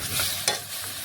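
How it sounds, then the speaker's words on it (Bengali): Sliced ridge gourd is stirred with red chilli powder in a hot pan, giving close scraping spatula strokes over a soft, steady sizzle, with no voices. "এটাও ভালোভাবে মিশিয়ে নিচ্ছি ঝিঙের সাথে"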